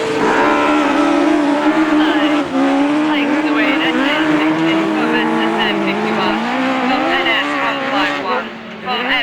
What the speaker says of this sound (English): But SN60 still taking a really good lead here from the NS151 car of Thomas Chadwick.